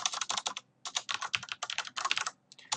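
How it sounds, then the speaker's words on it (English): Rapid clicking on a computer keyboard and mouse during a control-click: several quick bursts of crisp, close key and button clicks separated by short pauses, with no talking. "I'm going to control click."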